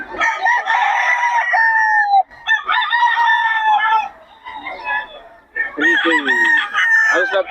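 Fighting cocks crow loudly at a Bocaue market, with several long, overlapping cock-a-doodle-doos and clucks close by in quick succession.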